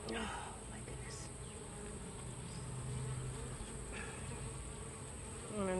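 Honey bees buzz in a dense, continuous hum around an open hive during an inspection, close and steady, with faint handling noises and no talk.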